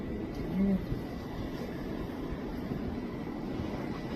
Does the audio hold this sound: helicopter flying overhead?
yes